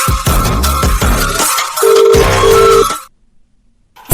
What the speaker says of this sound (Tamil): இதோ தேவிக்கு ஃபோன் பண்ணுறேன்